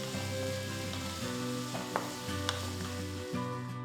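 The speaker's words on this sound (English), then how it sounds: "Then add 1 large onion finely chopped and saute till it comes to a nice golden brown color" Finely chopped onion sautes with spices for a Hyderabadi dalcha, giving a steady close sizzle in the pan, with a few clinks of a spoon stirring; a low electric hum runs underneath.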